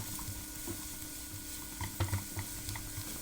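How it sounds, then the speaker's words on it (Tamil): Green chillies and curry leaves for crab masala are sautéed in a pan, giving a soft, low sizzle broken by a few clicks and taps of the spatula, close but quiet, with no speech. "இதோட ஒரு 3 பச்சை மிளகாய், ஒரு 10 கருவேப்பிலையில் அதையும் சேர்த்து நல்லா வதக்கிக்கோங்க."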